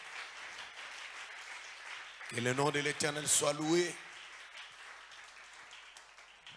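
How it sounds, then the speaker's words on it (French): A congregation at a Bible seminar applauds, steady clapping in the background throughout while someone speaks loudly over it in the middle. "On applaudit pour la gloire du Seigneur."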